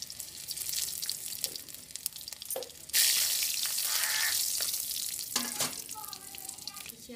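Garlic, chili and panch phoron hit hot oil in a wok with a sudden loud sizzle that holds steady for a few seconds, then fades into clatter and stirring, close by.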